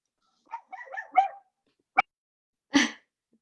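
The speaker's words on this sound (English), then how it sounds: "can hear your dog." A small Chihuahua lets out a short string of yappy barks, then two sharp single barks after brief pauses, fairly close.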